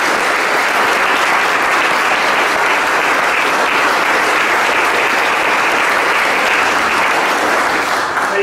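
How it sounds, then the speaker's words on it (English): Sustained, dense audience applause at a book reading for the novel Impossible Music, steady and loud from start to finish with no speech over it. "Can we have a big round of applause for Alan Lapham?"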